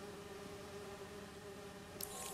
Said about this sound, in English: Those are robot bees.